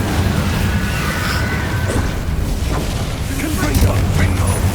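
A fiery Incendio spell in the Hogwarts Legacy game, a deep boom and crashing burst within a dense, continuous rumble of battle effects. A character shouts spell names over it.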